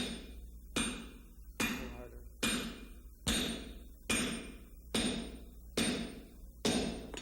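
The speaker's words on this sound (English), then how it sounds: "it's placed in a swedge block and then struck with a fuller hammer" Steady metallic fuller-hammer blows on a blade set in a swage block ring out about once every second, each sharp strike followed by a brief ringing decay, close and fairly loud.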